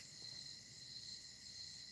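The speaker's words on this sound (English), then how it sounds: "we can hear the crickets" Crickets chirp at night on a front porch in Nyack, New York, a faint, continuous high trilling with no other sounds or voices.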